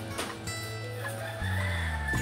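At Sikatuna's Mirror of the World, a rooster-like bird calls out with drawn, harmonic crowing tones over steady background noise, loud and fairly close.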